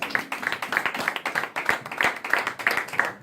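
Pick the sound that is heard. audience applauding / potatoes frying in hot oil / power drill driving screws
audience applauding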